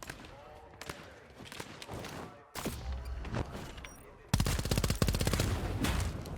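Rapid submachine gun bursts in a first-person shooter video game, fast rattling volleys that grow louder and denser toward the end, with someone talking faintly over the shooting.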